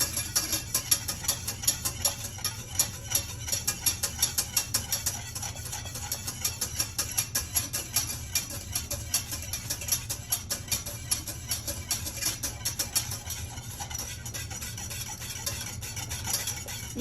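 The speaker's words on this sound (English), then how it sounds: "I still want to keep stirring, keep whisking, because I do not want it to scorch on the bottom" Meringue-style chocolate pie filling whisked fast in a hot pot on the stove, a steady rapid scraping rhythm of the whisk against the metal that repeats nonstop with no voices.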